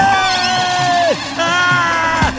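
A cartoon character shouts in loud, drawn-out, sliding cries. Two long yells break off with a brief dip between them, over busy background noise.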